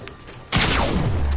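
Video game gunfire erupts from behind the player in a combat build match, a sudden loud burst of rapid shots and rattling impacts that continues steadily after a quiet start.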